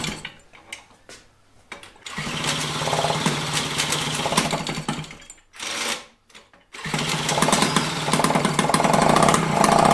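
Peugeot 103 SPX moped engine running at a low idle during a restoration, a steady close buzzing putter that briefly dies away twice before picking back up loud and continuous.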